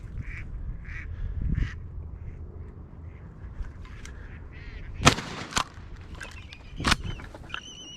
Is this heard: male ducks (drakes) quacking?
yes